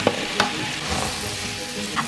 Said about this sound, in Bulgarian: Предварително имаме масло в тигана и сега добавяме гъбките.